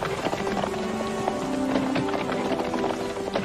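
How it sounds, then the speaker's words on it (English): Galloping horse hooves as a sound effect, a fast continuous clatter of hoofbeats laid over steady music throughout, fairly loud with no voices. "Scriven's fiancée rode out to meet him along the banks of the River Bon"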